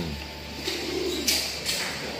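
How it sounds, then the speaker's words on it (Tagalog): Low, soft cooing of a racing pigeon at a club training toss in Calamba, a gentle rolling coo heard over a steady background hum. "Ito namang ibon ni ni Victor Tan."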